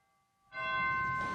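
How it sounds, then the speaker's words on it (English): A single bright bell-like chime from a Moller pipe organ's real chimes strikes after a brief silence and rings on with sustained clear tones. "chimes are still here, and those are real chimes"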